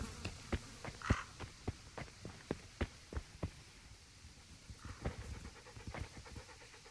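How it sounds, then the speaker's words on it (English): Dog panting in the medieval role-playing game Kingdom Come: Deliverance, quick rhythmic breaths repeating close by and fairly faint, with no talk over them. "There's a good dog."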